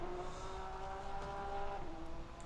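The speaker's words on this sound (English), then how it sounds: "let you listen to the rumble of the engines" Race car engines in a racing video game, Porsche LMGT3 cars at Fuji, make a faint, steady droning hum that holds a constant pitch, heard alone with no talk.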